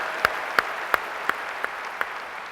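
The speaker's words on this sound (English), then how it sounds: "I think we all owe his sons and everybody else in the military a round of applause." At a presidential political forum, an audience gives steady applause for the military, a continuous wash of clapping with a few sharp, evenly spaced claps standing out.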